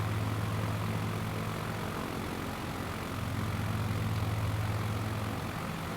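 A propeller airplane engine in Microsoft Flight Simulator 2020 gives a steady, loud, even drone with a low hum underneath, holding constant for the whole stretch with no talking.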